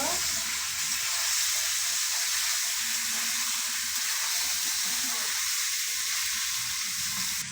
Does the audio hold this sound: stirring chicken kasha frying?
yes